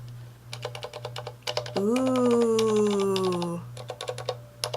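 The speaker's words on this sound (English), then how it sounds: "So here's what it sounds like, just not plugged in or anything." Typing on a Corsair Strafe RGB keyboard with Cherry MX Silent switches gives rapid, close, muted key clicks in bursts over a steady low hum, briefly interrupted by a long drawn-out vocal exclamation.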